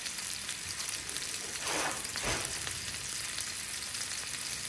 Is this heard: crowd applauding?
no